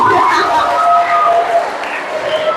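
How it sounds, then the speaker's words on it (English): An audience at a school outreach event in Uganda claps in a short burst, a crowd of hands with voices mixed in, fairly loud and brief. "Please give her a round of applause."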